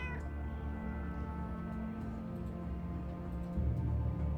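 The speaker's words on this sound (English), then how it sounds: "Someone has a cat in here." A cat meows in the video game UnderRail, a short call over a steady hum of game ambience and music, with no talking over it.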